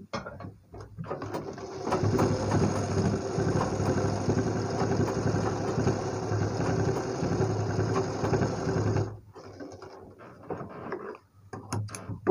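Sewing machine stitching triangle-design blouse fabric with red piping, a loud steady mechanical whir that runs continuously for about nine seconds, then stops abruptly, leaving only brief faint rustles and taps.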